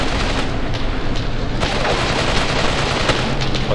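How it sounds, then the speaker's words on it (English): Dense, continuous machine gun fire from a KV tank in the Graviteam Tactics war game, loud rattling bursts layered with battlefield booms and rumble, with no pause throughout. "KV tank machine gunning the anti-tank rifles."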